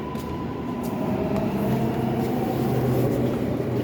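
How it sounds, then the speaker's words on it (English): A subway train pulls out of the Morgan Avenue station in Brooklyn, a steady loud rumble of wheels and motors filling the platform with continuous low roar and faint high squeal, no voices over it. "I know that was the train that left."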